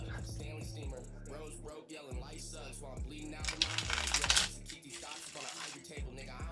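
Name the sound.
shuffling tarot cards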